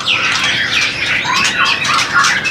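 A wild Bahorok white-rumped shama (murai batu), kept at a bird-market kiosk at Pasar Pramuka, calls in a dense run of loud, close, bright chirps and squawky whistles with no pause.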